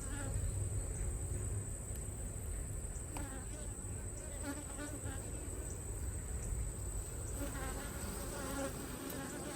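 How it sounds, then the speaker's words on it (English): Bees buzz in a beehive with a dense, continuous drone, faint and close. Soft voice-like murmurs sit under the hum at times. "Got more bees in the bottom than I thought"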